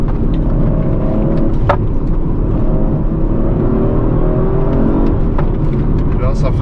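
An Audi RS5-R ABT with front ceramic brakes drives and slows down, giving a steady engine and road drone with a few brief higher whines. A voice talks over it.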